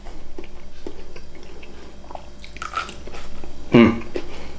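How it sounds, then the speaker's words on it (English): Close, moist chewing of chewy sushi during a mukbang, with soft repeated bites and mouth squishes and a sharper crunchy burst near the end, no talking. "I've been chewing this one. This one's so chewy."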